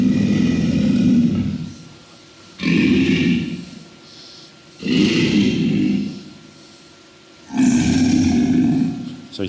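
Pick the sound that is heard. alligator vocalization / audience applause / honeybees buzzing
alligator vocalization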